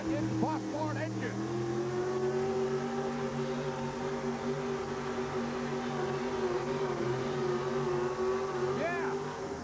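A 1979 Ford four-wheel-drive pulling truck with a 600 cubic inch shotgun Hemi Ford engine, roaring loud and sustained at an indoor arena pull, its pitch holding high and steady under an announcer's voice.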